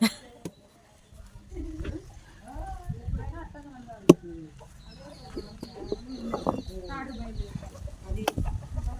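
Chickens cluck nearby in a village yard, with short, scattered clucks and calls coming in uneven bursts. People talk over them.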